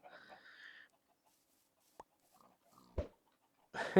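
Chickens in the game Minecraft clucking in a small enclosed chicken pen, with a few short separate clucks and squawks spaced across a quiet moment, fairly close.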